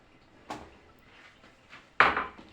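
A spoon stirring stuffed vegetable filling of rice, salt and dried mint in a pot, heard as two distinct scraping clanks against the pot, the second louder, with quiet pauses between.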